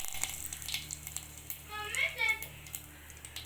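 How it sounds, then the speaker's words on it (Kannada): Curry leaves hit hot oil for a buttermilk curry, giving a steady low sizzle and crackle that swells briefly near the middle before settling back to a soft fry. "ಈಗ ಕರಿಬೇವು ಹಾಕೋತೀನಿ ರೀ"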